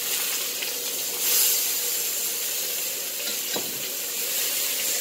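Stuffed chicken fries steadily in a pan, giving a continuous bright sizzle and hiss that holds evenly throughout, close up, with a faint clink of the pan partway through.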